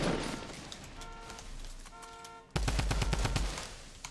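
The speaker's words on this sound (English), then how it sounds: "Pretty safe to shoot through those bushes." Rapid bursts of automatic gunfire in the Fortnite battle royale game, loud repeated shots in a dense rhythm that grows sharply louder partway through, with no talking.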